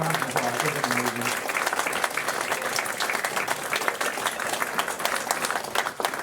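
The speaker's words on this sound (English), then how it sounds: "Give these guys a little round of applause." Audience applause fills a magic club show, steady dense clapping from a crowd, close and continuous with a few voices faintly mixed in.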